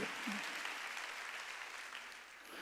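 A church congregation claps together during a worship service, a faint, dense patter of applause sustained throughout, with a voice briefly audible beneath it.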